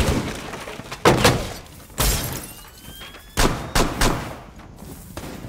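Gunfire in the Rainbow Six Siege video game, several loud sharp shots and short bursts in uneven rhythm, some in quick pairs, close and dominant.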